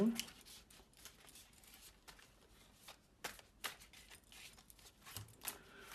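Oracle cards are shuffled in quick, crisp riffles and flicks, close up, with a few louder snaps scattered through the sequence.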